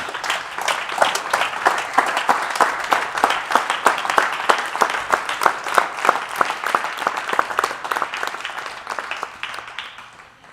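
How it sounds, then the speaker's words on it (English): An audience stands and claps at a livestreamed gathering, a dense run of hand claps lasting about ten seconds at steady loudness before tapering slightly at the end. "Let's get ready to stand and give Mr. Who a hand clap"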